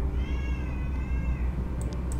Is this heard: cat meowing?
yes